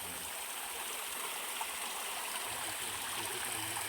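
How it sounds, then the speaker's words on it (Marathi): A stream tumbling down from a river above near a farmhouse, a constant, dense rushing and gurgling of flowing water close by, steady throughout with no talk. "असं वरतून ते असं पाणी खाली येत आहे"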